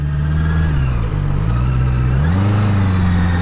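A car climbs a steep mountain road near Naringgul, its engine droning steadily close by with a shift in pitch partway through as it labours up the incline.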